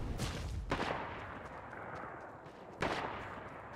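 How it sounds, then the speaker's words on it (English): Gunfire in the video game Fortnite, with two loud, booming shots about two seconds apart, each followed by a long rumbling decay over dense, noisy game background. "Why'd you shoot in the sky?"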